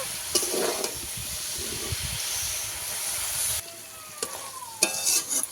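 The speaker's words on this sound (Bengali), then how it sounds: "ভালোভাবে দু মিনিট কষিয়ে নেবো" Spinach stir-frying in a hot pan, a loud steady sizzle and hiss with scraping stirs, easing off partway through and followed by a few clinks and fresh bursts of frying.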